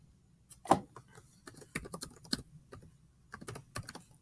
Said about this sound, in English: Type in our password, connect.